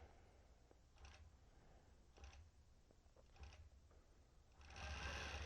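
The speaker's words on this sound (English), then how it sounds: "The machine is going to start doing its tie-off stitches." An embroidery-capable sewing machine running tie-off stitches, giving faint, evenly spaced mechanical clunks over a low motor hum that grows louder near the end as stitching begins.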